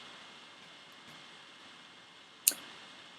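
A single sharp computer mouse click during 3D modeling work in Maya, standing out briefly against a faint steady room hiss.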